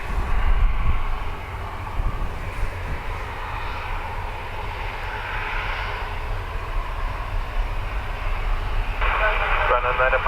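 An Emirates airliner roars down runway 10 right at Dublin Airport on takeoff, a broad, sustained engine rumble heard from a distance alongside radio chatter from air traffic control.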